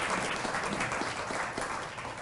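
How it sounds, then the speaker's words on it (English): A brief round of applause for a new Calvert County commissioner at a veterans brunch, steady dense clapping from a room full of people at moderate level. "Tim, give him a nice round of applause."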